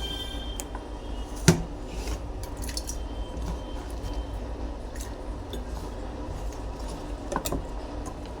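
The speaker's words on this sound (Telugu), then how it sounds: "కట్ చేసుకొని ఈ ఆలుగడ్డల్ని వాటర్లో వేసుకుంటున్నాము." Thin strips of cut potato drop into a bowl of water in a home kitchen: two small splashes, one around the middle and one near the end, over a quiet room with faint drips.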